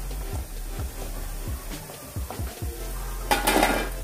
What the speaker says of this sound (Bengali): বড়াগুলো বেশ লালচে করে ভাজা হয়ে গেছে, এখন আমি এগুলোকে তেল থেকে তুলে নেব।